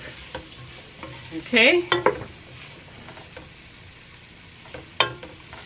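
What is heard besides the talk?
stirring spices and vegetables in a cooking pot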